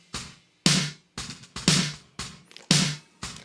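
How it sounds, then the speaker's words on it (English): Gated 1980s-style snare drum in a recreated song intro, about seven sharp, loud, reverb-washed hits that cut off abruptly, spaced unevenly with crescendo dynamics and no voices. "I'm automating the snare on that"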